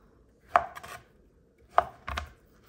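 A knife dices cooked beets on a cutting board for pickled beets, giving a few sharp, close chopping strikes with short pauses between them and no voices.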